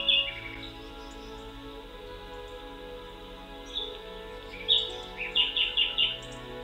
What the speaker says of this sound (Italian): Questo sarebbe il verso dell'usignolo.